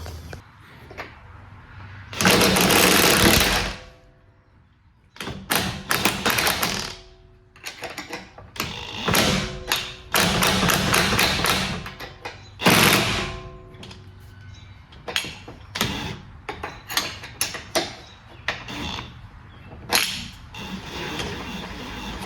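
The top nut of a BMW G80 M3 strut being unscrewed during a lowering-spring install, heard as several loud, sharp mechanical bursts separated by quieter gaps of rattling and handling.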